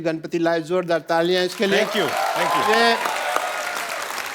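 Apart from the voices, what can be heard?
audience applause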